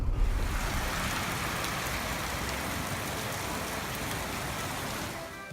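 Steady, dense rainfall in Addis Ababa during the rainy season, a continuous broadband hiss of drops at an even, fairly loud level throughout, with no voices.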